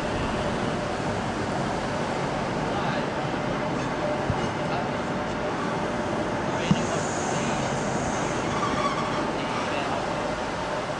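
A passenger train arriving from Leeds at London St Pancras station, a broad steady rumble and rolling wash through the station with faint higher squeals, while people talk nearby.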